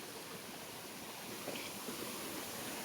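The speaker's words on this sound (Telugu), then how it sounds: "ఇదే జలపాతం అంటారు." Steady rushing water fills the clip, a continuous broadband roar from the nearby Mettuguda waterfall near Seethampeta, with no voices.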